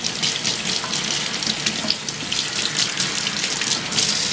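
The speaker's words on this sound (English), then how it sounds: "I'll go ahead and rinse out my strainer." Running tap water pours steadily into a sink as a juice strainer is rinsed under it, a continuous close splashing hiss with no talk.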